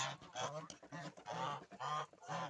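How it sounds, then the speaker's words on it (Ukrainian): A gander honks repeatedly in loud, nasal bursts, about five calls in quick succession, close to the microphone. "дуже такий грізний гусак, любить кусати"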